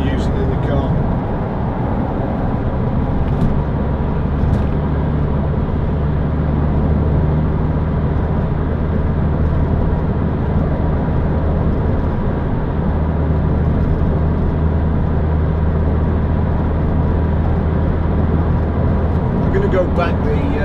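A 2006 Toyota MR2 1.8 VVT-i roadster being driven around a roundabout, a steady, loud engine drone and road rumble heard from inside the car, continuous throughout.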